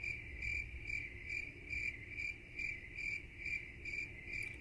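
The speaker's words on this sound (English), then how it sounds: "Crickets" A steady chorus of crickets chirps in an even, pulsing rhythm, played as a comedic silence effect. The faint chirping stands alone against a quiet background hum, with no voices.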